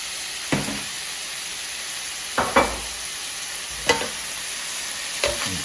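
Dirty rice ingredients browning in a pan for Cajun dirty rice, a constant fine sizzle punctuated by four distinct scraping stirs spaced about a second or more apart, no talking.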